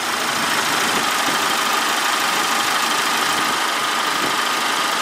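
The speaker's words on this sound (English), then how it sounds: "should we turn the engine off?" A car engine idles in a steady, even rumble that stays loud and close for the whole stretch, with no voices over it.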